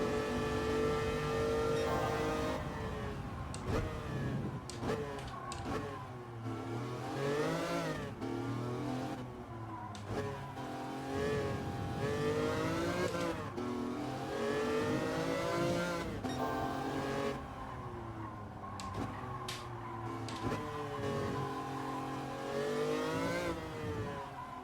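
A Super Formula open-wheel race car in a video game revs hard through gear changes, its engine pitch sweeping up and falling repeatedly as it brakes and accelerates through corners, loud and continuous with no talking.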